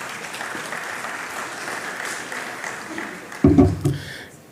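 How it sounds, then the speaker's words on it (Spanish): Audience applause at an international circular economy forum in a conference hall, welcoming a keynote speaker; steady clapping throughout, fairly distant, with a louder voice breaking in near the end. "Lo recibimos con un fuerte aplauso."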